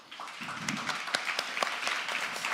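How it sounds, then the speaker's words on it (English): Conference audience applauding after a speaker's talk at an opening session of a peace-building event, a steady wash of clapping with some sharper individual claps, moderately loud and sustained throughout. "A round of applause."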